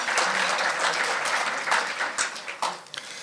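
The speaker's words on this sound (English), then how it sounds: "let's give them a round of applause for helping us out" An audience at a chamber of commerce December luncheon applauds its board of directors, a steady dense round of clapping that holds throughout and thins slightly near the end.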